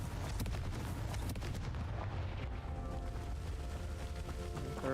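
A Confringo blasting spell goes off in a Harry Potter video game with a loud, sustained explosive roar and rumble that fills the whole moment, close and with no voices over it.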